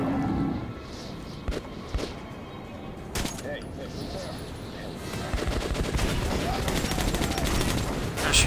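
Gunshots in the shooter Metro 2033, bursts of sharp reports scattered through the stretch, some single and some rapid, mixed with footsteps and someone talking.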